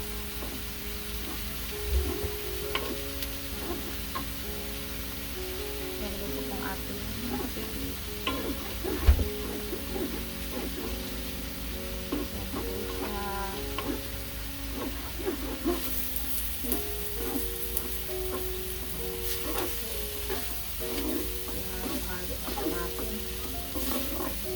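Pork intestine (isaw) sizzles while cooking in a pan, giving a steady frying hiss throughout with occasional stirring clatter and brief clinks, while a voice talks intermittently in the background.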